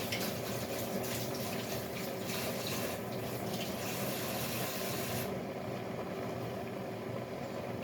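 Water from a tap runs steadily over hands being rubbed together at a kitchen sink while seafood is prepared, a continuous close splashing hiss that thins out near the end.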